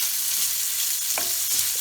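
A noodle dish fries in a single skillet with a steady broadband sizzle throughout, broken by a couple of brief stirring scrapes near the end, close and moderately loud with no talk.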